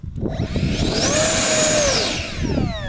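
The small turbine engine of an RC F-18 jet whines steadily at high pitch during a pre-flight engine check, its tone rising and then easing off over a loud continuous roar.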